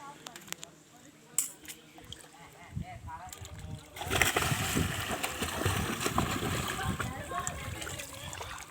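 Water splashing in a pool as a child kicks his feet, a steady busy churn of splashes that starts abruptly partway through and continues, with voices talking nearby before and under it.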